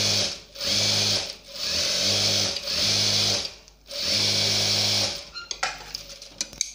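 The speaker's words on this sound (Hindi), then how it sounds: "तो इसके एज पे एकदम ऐसे अपन सिलाई लगाते हैं।" Sewing machine stitching along the edge of a kurti fabric, running in several sustained whirring bursts with brief pauses, close and loud, ending with softer handling clicks.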